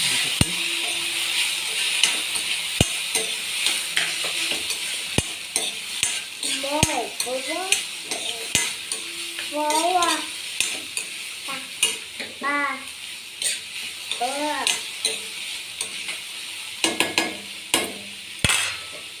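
Cluster beans and potatoes are stirred in a hot pan, a soft sizzle under repeated scraping and clinking strokes of the spoon, close and steady, with sharp taps against the pan now and then.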